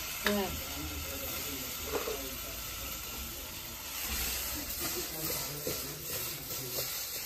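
Drumsticks and fish sizzle and hiss steadily in hot oil tempering, with a few light clinks and faint voices in the background.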